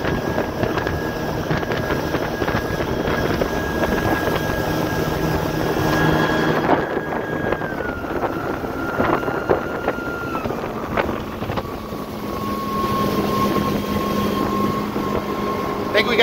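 A Boston Whaler skiff with a rebuilt 115 turbojet outboard runs steadily at high speed around 4,700 to 4,800 RPM, a continuous droning engine roar mixed with wind buffeting and water rush, with a slight pitch shift partway through.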